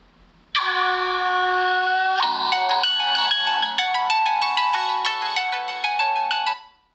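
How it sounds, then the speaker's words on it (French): A melodic ringtone plays loudly and alone through a Vivo Y72 5G phone's speaker, starting with sustained tones and then a fast repeating pattern of bright notes. "je vais vous faire écouter le son"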